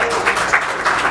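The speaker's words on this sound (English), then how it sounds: "Yeah, go ahead and clap" Applause at a township council meeting, a short burst of scattered hand clapping from a small group in a meeting room, moderately loud and close.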